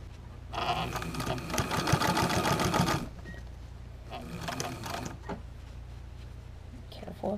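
A sewing machine stitches a deck or patio cushion cover along its cording, a loud steady mechanical whir for a few seconds that stops, then a shorter quieter burst of stitching later.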